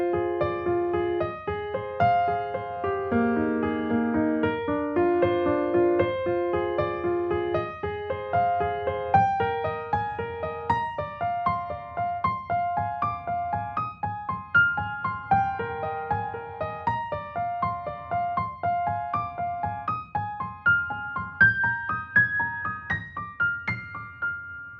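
Solo piano plays a piece with both hands, a steady flowing melody over a rolling low accompaniment, sustained and even in loudness throughout with no voices.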